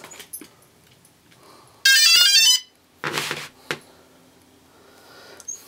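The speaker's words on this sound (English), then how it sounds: "now turn on the helicopter" A DJI Phantom Vision Plus drone powers on, giving a loud burst of rapid high electronic beeps followed by a couple of shorter tones, with quiet pauses around them.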